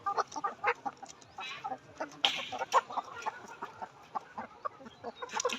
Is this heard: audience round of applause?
no